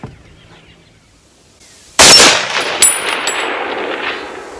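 AR10 rifle chambered in .30-06 fires a single loud shot at about two seconds, followed by a bright metallic ring from a struck steel target that decays over the remaining seconds.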